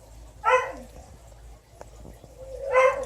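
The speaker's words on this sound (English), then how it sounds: "Shut up, dog!" A dog barks twice outdoors near a kitchen where blackberry jam is at a rolling boil, each short bark clear and fairly close, about two seconds apart, with low background noise between.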